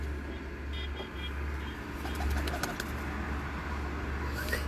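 Pigeon cooing on a rooftop loft, a gift bird from Ustad Raja Iftikhar Kaka's flock, fairly faint over a steady low hum of outdoor background noise, with a few faint chirps around it.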